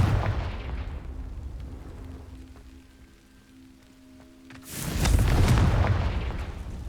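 A Confringo fire spell in Hogwarts Legacy bursts against dry vines with a heavy, rumbling boom and a crackling roar. The noise fades to a quiet lull, then a second loud burst flares up and lingers.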